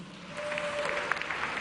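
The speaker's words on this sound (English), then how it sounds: "Please, another round of applause." Awards ceremony audience, at a gala honouring inspiring women, applauding after a storytelling performance: a steady wash of many hands clapping at moderate volume, with a few sharper claps standing out near the end.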